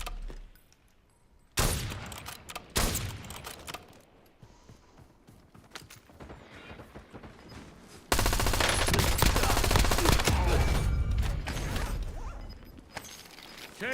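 Video game gunfire breaks out after a quiet opening: scattered close shots, then a long loud stretch of rapid automatic fire and impacts.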